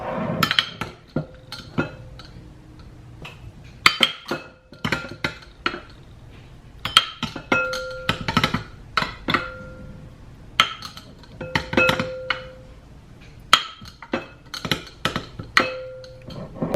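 Measuring cups and utensils clink and tap against a mixing bowl as almond flour is measured in for one-bowl keto bread, a run of sharp, close, irregular knocks with short pauses between.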